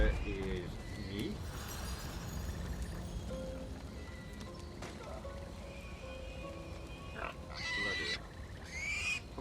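Pigs oinking in the fantasy video game Divinity: Original Sin 2, several squeals and grunts scattered through a busy game soundscape, with a louder burst near the end.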